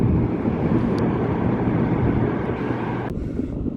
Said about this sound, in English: a little bit windy here